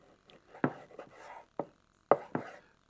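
Knife slicing a pound of raw bacon into pieces on a cutting board, giving a handful of sharp, close chopping thuds spaced irregularly, with quieter scraping between them and no talk.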